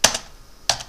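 Two quick bursts of keystrokes on a computer keyboard while writing LaTeX chapter code, close and crisp with a short pause between them, no talking.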